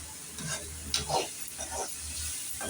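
Egg podimas frying in a pan while being stirred, a steady close sizzle broken by scraping strokes of a spatula against the pan, with no talking.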